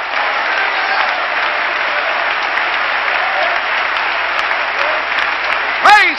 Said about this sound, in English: I wish you'd clap your hands and give Him honor right now